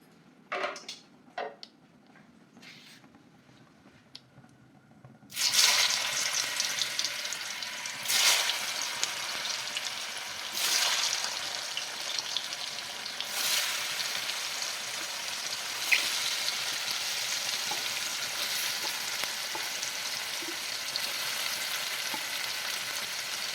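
Mushrooms drop into hot oil in a kadai and burst into a loud, steady sizzle after a few quiet clinks, with stirring scrapes breaking through the frying hiss.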